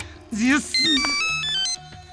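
A phone ringtone sounds close and loud, a quick series of bright electronic notes following a brief voice at the start.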